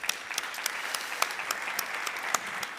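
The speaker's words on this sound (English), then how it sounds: "We can give them all a very brief round of applause again." Brief, steady applause from an audience at a conference plenary session on mountain cryosphere and groundwater, a dense patter of clapping heard from within the hall at moderate volume.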